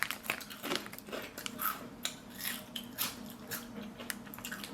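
Someone bites and chews Irish salt and malt vinegar Hunky Dorys crisps, giving repeated close, sharp crunches in an irregular rhythm.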